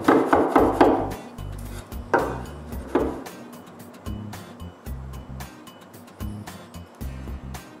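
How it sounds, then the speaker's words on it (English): A chisel plane cleans up wooden shelf supports made from old glued 2x4s, producing a series of irregular scraping and rubbing strokes. Sharper bursts come early, followed by softer, sporadic shaving sounds. "I clean the rest with a chisel plane."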